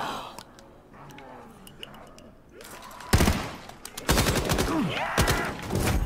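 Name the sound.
gunfire in video game Call of Duty Black Ops 3 Zombies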